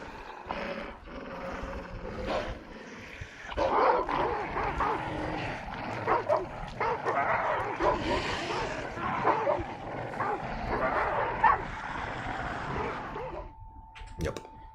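Dogs in the video game Hunt: Showdown bark and yip repeatedly in rapid bursts, fairly close and loud, mixed with whimpers over a busy game background, with a brief tone near the end.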